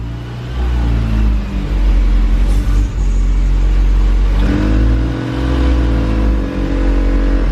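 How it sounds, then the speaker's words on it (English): A car engine idles loudly and close after starting, with a steady low rumble and a couple of brief revs that rise and settle, no talking over it. "Alright guys, so the car does run."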